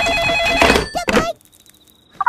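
A cartoon telephone rings loudly in two bright, bell-like bursts up close, followed by a short lull and a faint tone, then a voice starts at the very end.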